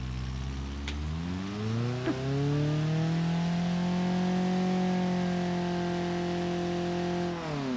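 A Tofaş Toros car engine in BeamNG.drive, stuck on a snowy village road, revs up, then holds a high, steady drone for several seconds before easing off at the end.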